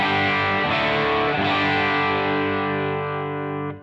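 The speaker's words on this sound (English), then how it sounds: "Bright settings like this." Telecaster electric guitar played through a Crazy Tube Circuits Hi Power pedal on its bright setting, giving a loud, distorted strummed chord that rings out steadily and is cut off near the end, with no talk.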